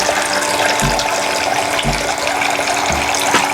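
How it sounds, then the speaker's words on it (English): Water poured into a toy kitchen sink, a steady broadband splashing and trickling that runs throughout, with a few soft low thumps spaced about a second apart. "Now let's put the water in here."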